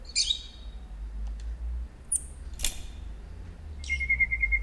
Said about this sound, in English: It's a little bird.